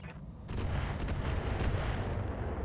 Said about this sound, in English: we're just going to fire some HL missiles